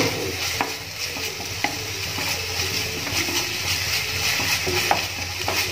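Green chili paste with ginger and garlic sizzles and fries in a pan for a biryani, a steady close hiss with occasional stirring scrapes throughout.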